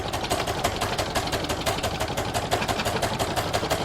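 An embroidery machine stitches a Santa in-the-hoop appliqué belt in black thread, giving a steady, fast mechanical whirr with a rapid needle-stroke rhythm. It is close and continuous, with no talk.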